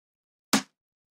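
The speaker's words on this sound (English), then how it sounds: "So the snare sounds like this by itself." A single clap snare hit from a beat, a sharp, bright burst that decays quickly and stands alone in silence.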